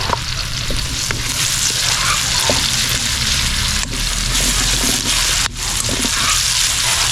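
Garlic frying in a pan, a loud, dense, continuous sizzle close up with faint stirring, running steadily throughout without talk.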